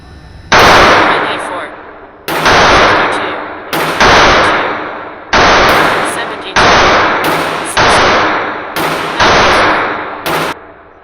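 Live-fire gunshots at an outdoor shooting range, eight sharp loud reports spaced about a second and a half apart, each trailing off in a ringing echo.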